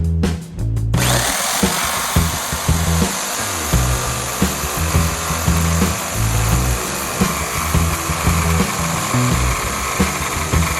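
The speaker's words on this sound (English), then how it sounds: "And now I can cut that off with the jigsaw." A jigsaw cuts through a van floor panel, its blade chattering in a fast steady buzz that stays loud and close with short dips, starting after a brief moment of quiet.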